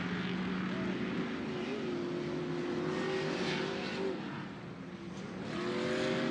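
Off-road race trucks at a TORC short-course round at Bark River roar past in a pack, engines droning and revving steadily throughout, with a brief dip before building again; a commentator's voice is faintly present.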